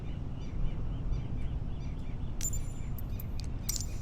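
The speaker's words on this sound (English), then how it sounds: "Nice ambient sound from birds." Ambient birdsong at an Oceania airport in Microsoft Flight Simulator 2020: brief high chirps and calls over a low steady rumble, with a cluster of sharper tweets near the end.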